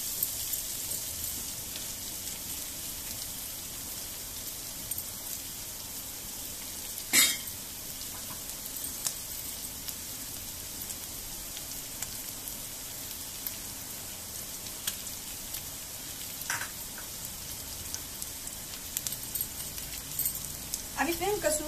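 Diced potatoes fry with cumin seeds in a pan for spicy jeera aloo, giving a steady soft sizzle throughout with a few sharp clinks of a utensil against the pan.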